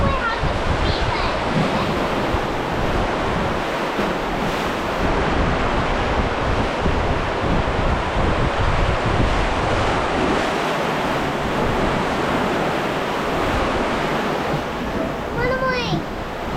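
Water rushing and splashing around a Congo River Rapids raft ride at Alton Towers, a loud continuous roaring wash with wind buffeting the microphone and brief voices near the end.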